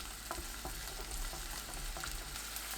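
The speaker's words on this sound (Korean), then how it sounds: "팬에 올리브오일 1큰술, 마늘 넣고 중불로 1분 30초 볶아주세요" Garlic sautés in olive oil in a pan over medium heat, giving a steady close hiss with soft periodic stirring taps and scrapes, and no voices.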